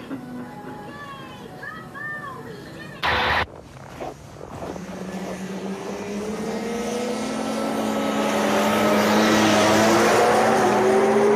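A car approaches along a Québec street zoned at 30 km/h and rushes past at speed, its engine and tire roar swelling steadily louder and nearer after a brief voice and some clatter at the start.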